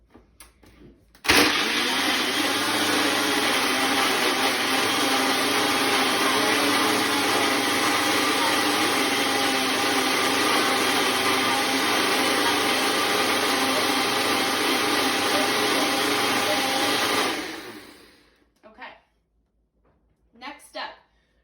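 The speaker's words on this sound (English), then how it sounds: "you like your smoothies really, really well blended and you want to hold your blender down even longer" A blender runs continuously for about sixteen seconds while making a fruit smoothie, a loud, steady whirring roar that starts abruptly and cuts off at the end. A few faint knocks and handling sounds follow once it stops.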